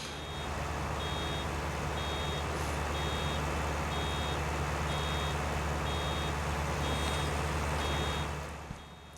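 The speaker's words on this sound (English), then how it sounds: "It always gets to the point where it starts beeping just when I get to like the end of a row" Farming Simulator 19 game vehicle turning at the end of a row while baling straw: a steady, evenly spaced series of high electronic warning beeps repeats over a continuous low engine drone, with no talking.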